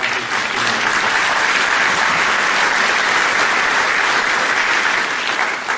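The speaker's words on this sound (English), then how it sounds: "I'd just like to ask that you give all of them a round of applause" Loud, sustained applause from a large crowd at a high school graduation ceremony, steady clapping filling the whole stretch without a break.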